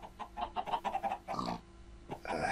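Pig oinking repeatedly in a VR chicken-farm game, stuck at a fence gate; a quick run of rhythmic grunts, then a louder squealing burst and another grunt, fairly close and alone without talk.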